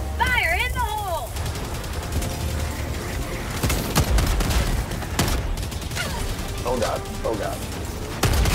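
Helldivers 2 combat, with repeated gunshots and heavy impact bursts from a grenade explosion and gunfire scattered over busy game noise, while players talk over it.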